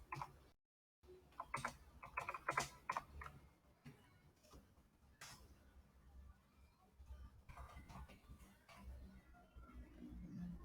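Quick clicking keystrokes on a computer keyboard tapping along in uneven bursts, close and fairly quiet, with a short silent gap near the start and faint room noise underneath.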